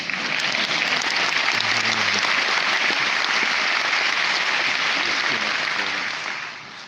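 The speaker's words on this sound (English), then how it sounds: "I should let you applaud first" Audience applause at the Hugo Awards 2024 ceremony, a dense sustained clapping from a large crowd filling the hall for about six seconds before tapering off at the end.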